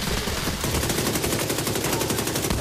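Rapid SMG fire in The Division 2, a long fast burst of closely spaced shots, loud and dense, running nearly continuously with no talk over it.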